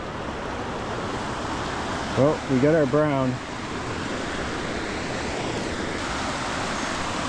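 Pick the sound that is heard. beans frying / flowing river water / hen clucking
flowing river water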